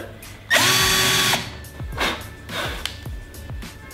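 A short, loud burst of a power drill boring a hole into a wooden frame, whirring for about a second before stopping, followed by quieter handling noises.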